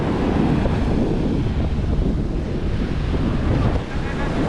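Breezy wind at South Beach buffets the microphone in a steady low roar, with surf washing underneath, loud and continuous.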